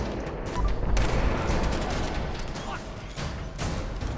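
Rapid bursts of submachine gun fire in a Fallout video game, loud overlapping gunshots rattling in quick succession with sharp cracks, briefly easing and then picking up again, and voices faintly under the shooting.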